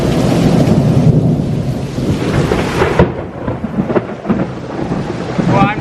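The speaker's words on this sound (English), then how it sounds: "We have very strong lightning and very strong rain" A loud thunderstorm with heavy rain pouring in a constant dense hiss, deep rolling thunder rumbling underneath and a sharp crack midway.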